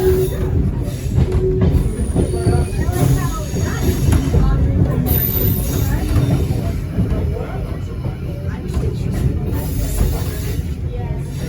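A heritage train rolls into the Lavender Bay sidings, with loud steady wheel rumble, squealing rails and rhythmic clatter close by, and people talking over it.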